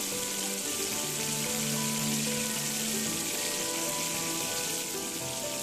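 Mutton keema vada crackles and sizzles in hot oil, a dense, steady frying hiss that stays loud and close the whole time with no talk.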